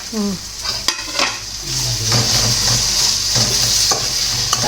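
Tomatoes sizzle steadily in hot oil, with a bright hiss throughout and a few clinks and scrapes of stirring in the pan.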